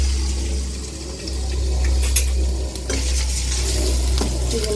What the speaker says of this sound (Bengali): আগে চিংড়ি মাছটা ভাজি।